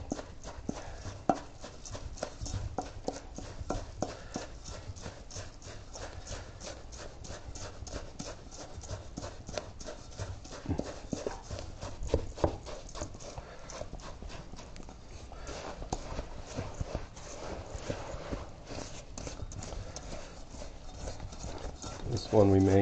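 A spoon works through thick, sticky oatmeal cookie dough in a mixing bowl, giving a fast, even run of soft knocks and squelches that keeps going throughout at moderate volume.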